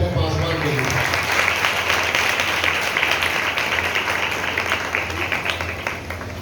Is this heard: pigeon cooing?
no